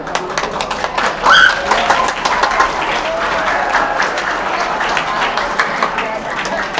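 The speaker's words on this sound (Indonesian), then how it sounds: "berikan tepuk tangan untuk sekolah kita" Students and staff at SMPN 1 Aikmel, a school, clap together for their school in a loud, continuous burst of applause that holds steady for several seconds.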